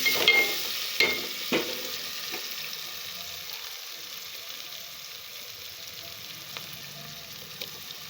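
Ginger garlic paste sizzles and fries in a pan for crab curry, with a few sharp spoon scrapes early on and then a steady, fairly quiet hiss.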